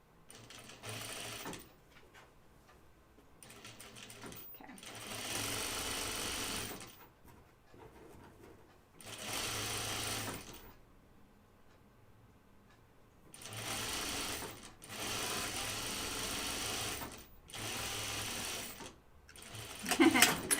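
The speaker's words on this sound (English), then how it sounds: "It doesn't take much sewing to wind the bobbin, which is great." A sewing machine runs in bursts while winding a bobbin for a flight suit project, each run steady and close lasting a few seconds, separated by short pauses with faint handling noises.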